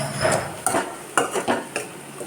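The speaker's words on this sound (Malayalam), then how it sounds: "ഇനി ഇതെല്ലാം കൂടി ചേർത്ത് നന്നായിട്ട് ഇളക്കി യോജിപ്പിക്കാം" A spoon stirs cabbage and green peas thoran in a pan, making about five sharp scraping and clinking strokes over a faint background sizzle, close and unaccompanied by speech.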